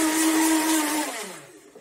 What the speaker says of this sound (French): je vais commencer par mixer cet ensemble.